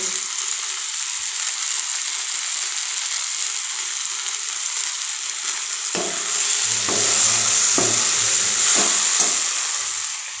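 Spice paste and cashew nuts fry in a pan with a constant sizzle, then a series of rhythmic scraping stirs joins in over the last few seconds; no speech.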